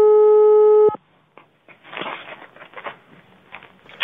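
A steady telephone tone sounds loudly for about a second as a call is placed to a forestry institute, then cuts off, leaving soft line crackle and handling noise.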